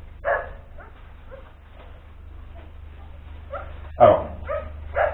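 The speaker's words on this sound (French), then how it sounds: "c'est le chien qui aboie" A dog barks in a few separate bursts, a couple early and a cluster near the end, moderately loud against a low steady hum with quiet gaps between.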